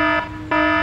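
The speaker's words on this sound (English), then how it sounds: "That's the alarm." An alarm in a game base sounds loudly: a steady electronic buzzing tone with harmonics, dipping briefly in the middle before resuming at full strength, with no talk.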